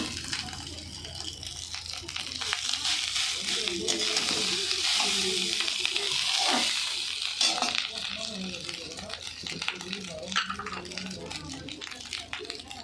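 Cooked rice being fried in a pan, some grains sticking, a steady broadband sizzle with stirring scrapes running throughout, close and fairly loud, with a voice talking intermittently over it.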